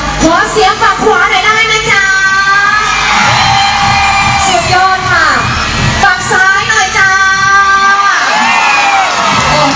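A loud crowd at a Thai mor lam concert cheers, whoops and shouts continuously, with high-pitched voices yelling over the dense roar.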